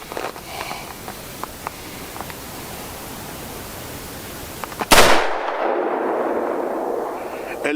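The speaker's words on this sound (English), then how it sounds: "we'll shoot through the chronograph to measure velocity in 357 Magnum and 38 Special" A Ruger GP100 revolver fires a single .357 Magnum round through a chronograph at an outdoor cabin range: one sharp, loud blast after a quiet, faintly rustling stretch, followed by a lingering rushing roar.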